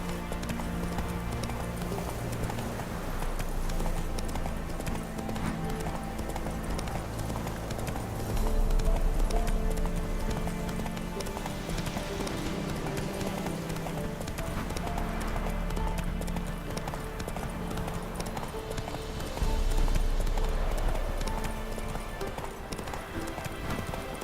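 Roach, Geralt's horse in The Witcher 3, gallops steadily in the swampy Velen countryside, hooves pounding in a continuous loud rhythm over a dense bed of game music and ambience.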